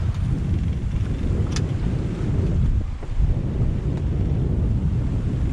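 Sailboat running on the mainsail in strong wind of around 18 knots, with heavy, constant wind rumble and water rushing close by.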